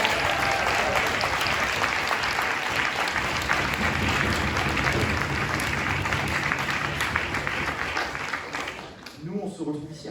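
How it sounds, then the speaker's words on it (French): Sustained, loud audience applause fills the hall at the closing conference of Europe Week, steady dense clapping that tapers near the end as a voice begins to speak. "Je pense qu'on peut encore les applaudir très fort"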